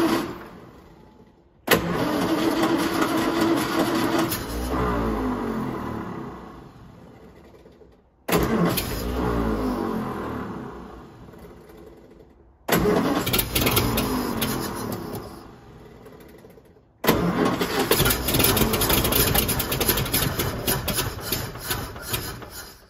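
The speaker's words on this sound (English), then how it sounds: "got the starter to work, got the engine to start" Starter cranking repeatedly on an abandoned royal limousine that sat unused since 1990, catching into loud running engine bursts; four separate attempts, each with a sharp start and the roar slowly fading, close up with no talking.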